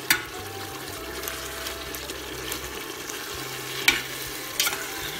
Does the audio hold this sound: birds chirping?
no